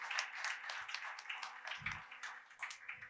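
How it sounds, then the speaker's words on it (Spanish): An audience at an international reading and book fair in Misantla, Veracruz, claps for a guest, light scattered applause from a modest crowd with a few nearby hand claps standing out. "Un aplauso para don Noé Rocha Oteros y agradecerle su presencia"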